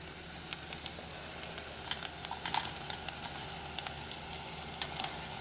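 Bacon, spinach and chopped mushroom stems sizzle in a pan for stuffed mushrooms, a soft steady hiss dotted with scattered small pops and crackles, fairly quiet and with no talking.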